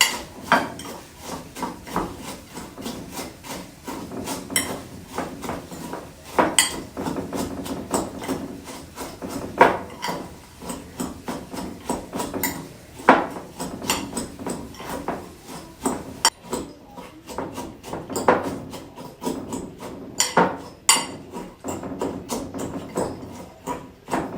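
Repeated clinks and scrapes of a utensil against a dish while crushed crackers are stirred into melted butter, irregular knocks and taps close by, with no talking.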